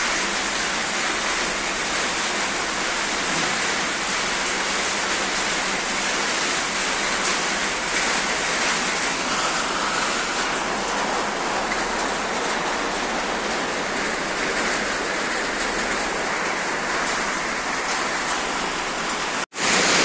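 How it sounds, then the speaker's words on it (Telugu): Heavy rain pours steadily over Hyderabad, a dense, even hiss with no letup, broad and close, holding level for the whole stretch before a brief drop at the very end. "హైదరాబాద్లో ఈరోజు చాలా వర్షం పడుతుంది"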